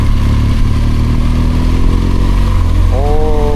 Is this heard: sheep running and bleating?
no